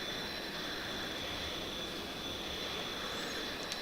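A U-2 aircraft engine in a flight simulator game gives a steady, continuous jet drone with a high whine, holding even and loud throughout with no talking.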